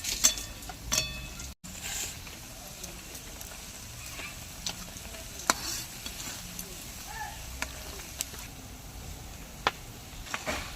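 A soft, steady sizzle of semolina rolls frying in hot oil runs throughout, with occasional sharp clicks and taps of a utensil against the pan.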